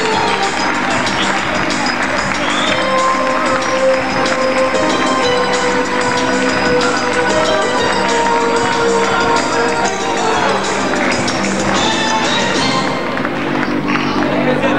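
Large crowd applauding the head coach of a football club at an anniversary celebration, dense continuous clapping and cheering held at a steady loud level throughout, with voices mixed in.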